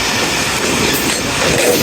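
The Jaffar Express passenger train rolls along the Attock–Lahore line, a loud, continuous rumble of wheels and carriages heard from on board.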